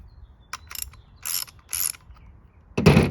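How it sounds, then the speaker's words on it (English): A 9/16 inch wrench tightening a bolt on a hitch-mount bike rack stabilizer spacer bar, several short close metallic ratcheting clicks in quick bursts, ending with a louder clunk. "grab your 9/16" wrench, insert in the perforation, secure the bolt"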